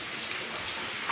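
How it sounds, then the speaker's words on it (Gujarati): Continuous rain falls in a soft, even patter around a rural Gujarati home with water leaking in from above, a brief moderate hiss with no voices. "વરસાદ કન્ટિન્યુ પડતું જ કરે છે."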